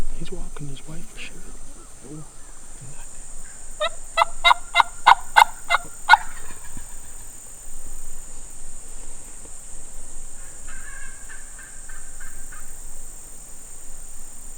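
A wild turkey gobbler in South Florida gobbles once from a short distance, a rapid rattling burst, with soft rustling and insect hum in the background before and after.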